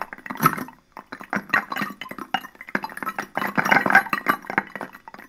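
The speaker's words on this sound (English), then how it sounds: "We hear the ultrasonic overtones of the keys." A bunch of keys jingles and clinks in irregular bursts, heard through an ultrasonic detector that turns their high overtones into a gritty, crackling series of metallic rattles, close and moderately loud.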